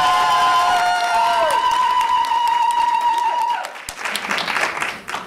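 Conference audience applause at a keynote session, starting under sustained tonal ringing feedback, then a louder burst of clapping and cheering as the tone cuts out.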